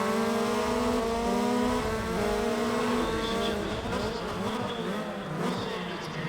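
Race cars roar through a rallycross event in Need for Speed ProStreet, engines droning steadily and loud with buzzy harmonic tones that shift pitch as the cars rev, continuous for several seconds with no talking.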